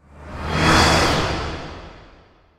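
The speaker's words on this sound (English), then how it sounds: "making whoosh sounds is very easy" Layered whoosh sound effect built with a cymbal recording and a Doppler sweep, one smooth airy pass that swells and fades over about two seconds, heard alone.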